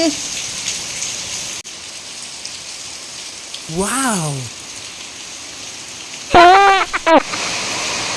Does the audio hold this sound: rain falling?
yes